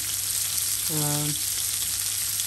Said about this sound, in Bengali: আজকে চিংড়ি মাছ ভুনা করবো